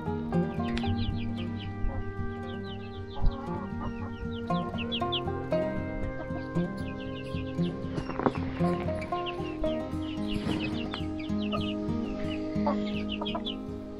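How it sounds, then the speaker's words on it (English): Chickens cluck and chirp, including young two-month-old birds and an older hen. The calls come scattered and moderately close over steady background music. "Got an older hen there."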